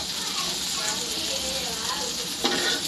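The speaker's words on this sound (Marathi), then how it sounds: "आणि आता आपण फ्राय करून घेऊया." Shevaga (drumstick) pieces frying in oil for a Marathi recipe, giving a continuous soft sizzle and hiss with faint stirring clinks, close and moderately quiet.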